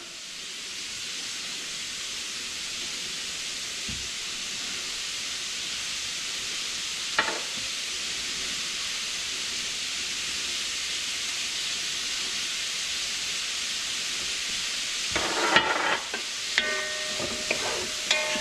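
Onions frying with salt and pepper in a pot for Cuban oxtail, a steady soft sizzle and hiss throughout, broken by an occasional spoon knock and a cluster of stirring scrapes near the end, no talking.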